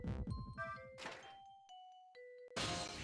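A hatch opens in the Ghost Trick: Phantom Detective video game: a series of heavy thunks, then ringing chime-like tones that hold and fade, and a final burst of noise.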